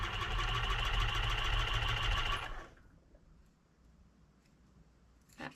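A domestic sewing machine runs a loud, steady test seam for a little over two seconds, its rapid mechanical stitching whir cutting off abruptly into quiet room tone, with a faint click near the end.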